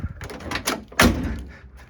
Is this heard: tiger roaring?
no